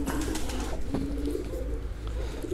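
Old golden pigeons cooing steadily up close, soft throaty calls repeating over a constant outdoor background.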